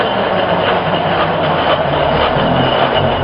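An RC car drives with a steady, loud whirring motor and rolling wheel noise close by, held at partial throttle without bursts, continuous for the whole few seconds.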